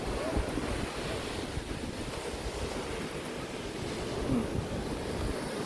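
Constant rushing ocean surf and wind roar close to the microphone at a beach in Japan, waves washing in a dense, unbroken wash of noise with no talk.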